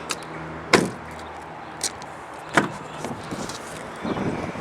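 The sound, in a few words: car doors opening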